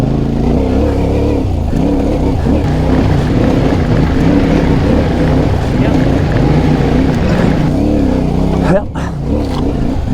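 A loud twin-cylinder engine on a CFMOTO 450 MT motorcycle drones steadily and close up while riding, its pitch rising and falling as it runs, with a brief dip near the end.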